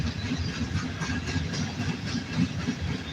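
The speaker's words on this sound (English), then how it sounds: "it's not unusual for trains to idle by my house for hours at a time sometimes" A train idles next to a level crossing and a siding, its engine giving a steady, continuous low rumble with a faint rhythmic throb at moderate distance, with no voices.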